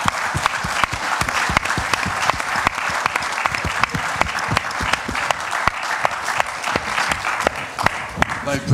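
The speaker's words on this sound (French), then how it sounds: "On va les applaudir" Sustained audience applause at a round-table event marking Clairefontaine's 50th anniversary, with sharp individual claps standing out from a steady crowd patter and voices underneath.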